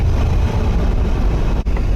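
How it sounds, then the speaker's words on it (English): A Chevrolet Impala engine with a newly installed transmission runs in a steady, loud low rumble nearby, with a brief dip near the end and no voices. "it revs up and down a lot smoother now than it used to"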